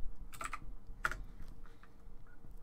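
Fingers tap out a short command on a computer keyboard, a few quiet, close clicks in an uneven burst followed by scattered softer keystrokes.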